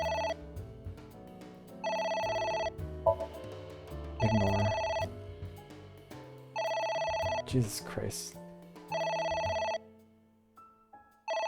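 A telephone in the AI: The Somnium Files video game rings repeatedly in loud, evenly spaced bursts, with a person speaking briefly between the rings before it cuts off near the end.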